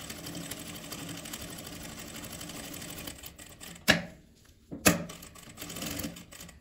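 A sewing machine stitches fabric scraps with a steady, close mechanical whir, broken by two sharp clicks toward the end.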